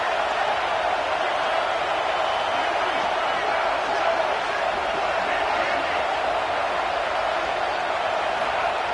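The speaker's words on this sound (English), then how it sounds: "Listen to the crowd energy here in the early going." Stadium crowd in a football video game: a dense, constant roar of cheering fans filling the whole stretch at even loudness, with a commentator's voice running over it.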